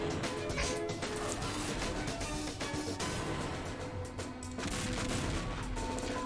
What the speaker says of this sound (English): I do at least like the fact that you get these frag explosions